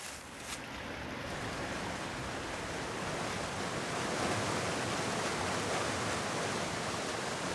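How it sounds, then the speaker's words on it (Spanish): A large 40-metre waterfall of turbulent water plunging over rock in a national park in the Amazon, heard as a steady, dense roar of rushing water that holds even and loud throughout with no voices. "La gran cascada de este parque nacional deja caer al vacío 40 metros de aguas turbulentas"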